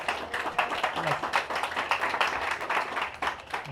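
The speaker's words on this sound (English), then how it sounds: "let's give her a round of applause" An audience claps in sustained applause, many hands blending into a dense crackling wash, steady and fairly loud throughout, with faint voices mixed underneath.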